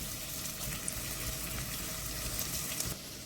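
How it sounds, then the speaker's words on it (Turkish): Steady, close sizzling of onions frying in hot oil, a continuous crackling hiss with no voices. "Soğanları iyice kavuruyorum."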